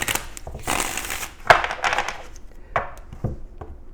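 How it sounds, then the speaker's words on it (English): Tarot cards being shuffled by hand, giving several short papery riffles and slaps in irregular bursts, close and moderately loud with no talking. "I'm having some issues shuffling. Let's go ahead and get one more shuffle here."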